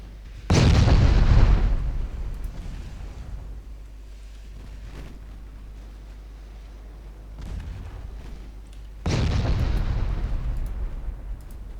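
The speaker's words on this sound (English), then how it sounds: "we are certainly in range of those enemy 10-inch guns. They were firing." Enemy 10-inch naval guns fire in Ultimate Admiral Dreadnoughts, a loud deep boom that rolls away into rumble. A fainter report sounds midway and another heavy salvo near the end, with no talking.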